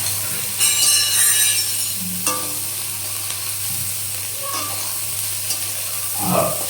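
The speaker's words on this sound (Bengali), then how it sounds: "একটু হালকা করে সয়াবিনগুলো ভেজে নেব" Soybean chunks fry lightly in a pan with a steady, close sizzle, broken by occasional stirring scrapes and a faint clink of utensil on the pan; no one speaks.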